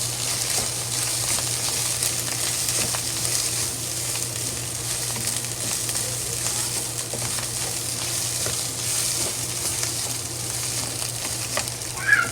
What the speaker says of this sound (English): Okay, we stir fry it.